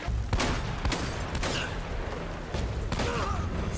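Gunfire in the video game Uncharted: Drake's Fortune, several sharp loud shots in irregular bursts over a rumbling game background, with no speech.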